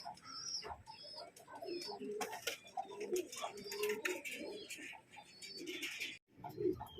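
Racing pigeons coo steadily in a loft, soft throaty calls overlapping with chirps and faint background noise, continuing throughout at moderate level.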